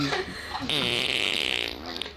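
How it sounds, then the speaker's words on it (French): A fart plays from a TikTok video on a phone: a sustained buzzy, reedy blast of about a second, heard amid nearby chatter and laughter. "Ah, il a pété"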